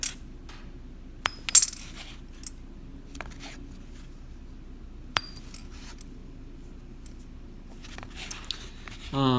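A few sharp metallic clinks ring out briefly in a quiet room, a genuine coin tapped or dropped, with faint handling noise between the strikes.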